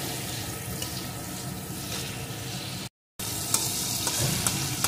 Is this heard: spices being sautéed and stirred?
yes